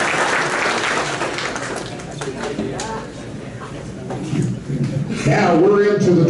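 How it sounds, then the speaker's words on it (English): Banquet audience applauding at an auto racing hall of fame event, a scattered round of clapping that thins midway, with voices talking over it near the end. "How about a collective round of applause?"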